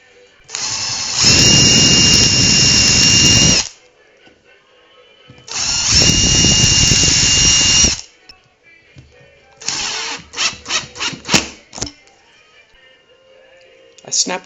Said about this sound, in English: you can mark your holes and screw the plate to the base